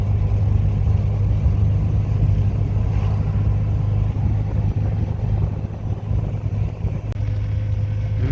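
Steady low engine rumble from inside a vehicle driving during the harvest, loud and constant throughout with no talk.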